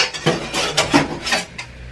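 Corn and sausage tumble into a cooking pot with a series of close clinks and knocks of metal and utensils, irregular and fairly loud, without talk.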